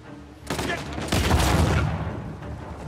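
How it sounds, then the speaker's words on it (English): In the video game Uncharted: The Lost Legacy, a drum-loading shotgun fires in close bursts, loud and dense blasts piling up over about two seconds in a chaotic firefight. "What is some sort of drum loading shotgun?"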